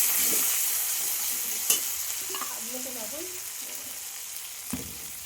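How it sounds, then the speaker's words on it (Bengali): Ground spice paste is stir-fried in hot oil in a pan, making a close, crackling sizzle broken by a few sharp spoon knocks, with a faint voice in the background. "বাটা মশলাটা দিয়ে দেওয়া হচ্ছে এবারে এটাকে দিয়ে একটু কষিয়ে নিতে হবে"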